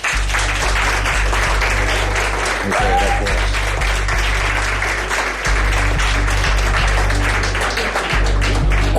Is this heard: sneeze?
no